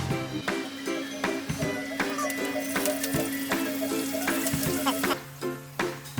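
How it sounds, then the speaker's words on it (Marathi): Curry leaves sizzling in hot oil in a kadhai as tempering for a Konkan mango raita, a continuous close crackling hiss with a low hum beneath and a few sharp clatters from stirring. "तर आता मी फोडणीला घालला ना कढीपत्ता."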